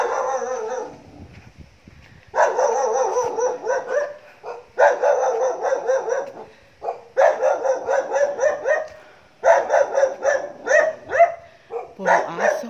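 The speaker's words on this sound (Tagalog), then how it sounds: "Puro aso." Several dogs barking and howling in repeated bursts, loud and close, with short pauses between volleys.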